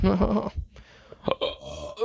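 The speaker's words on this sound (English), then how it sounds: "that, is the ceremonial belch that tells us we are about at our time" A man lets out a long, low, loud belch up close, followed by a couple of shorter guttural bursts.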